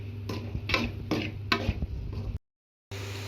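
Masala with salt stirred and sautéed in a pan, rhythmic scraping strokes of a spoon about every half second over a low sizzle, then a brief silent gap before the cooking noise resumes.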